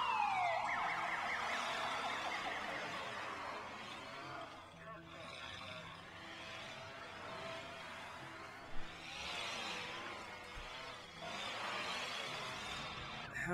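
Police car sirens wail in the SimCity city-building game, a continuous sweeping electronic tone that rises and falls over a steady background of city ambience, moderately quiet throughout.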